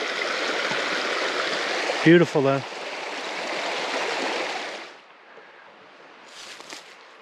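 Mountain stream water cascading steeply downhill along a trail, a steady loud broadband rush that fills the first five seconds, briefly interrupted by a short voice, then fades to a quieter, more distant flow.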